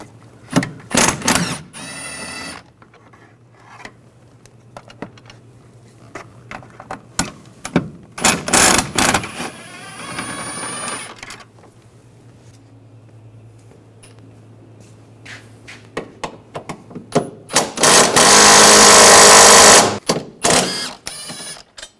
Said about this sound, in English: Use a T45 socket. Take these bolts out.